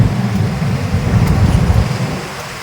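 Engine of a Honda Click 125 V3 scooter while riding, a steady low droning rumble with road and wind noise, close and loud throughout the short stretch.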